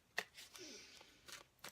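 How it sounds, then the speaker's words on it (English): Tarot cards shuffled and drawn during a Libra reading, a few quick, soft riffling and snapping bursts with quiet gaps between them. "I'll go ahead and pull a spell card for you"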